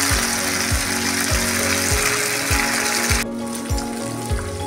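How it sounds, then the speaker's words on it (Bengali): Chicken sizzling as it fries in a pan for chicken chow mein, a steady close crackle with a faint regular ticking underneath, quieting near the end. "এইরকম করে আমি ভেজে নিলাম।"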